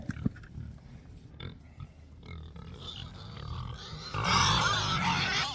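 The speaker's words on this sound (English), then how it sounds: "So you can probably hear these little piggers squealing." Little pigs squealing and grunting while waiting to be fed on a farm, with a mix of grunts early on and a louder, denser burst of high squeals toward the end.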